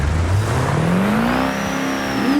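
A V8 diesel engine in a vintage 1950s ramp truck in BeamNG revs up loudly and steadily, its pitch climbing through the rev with no talk over it.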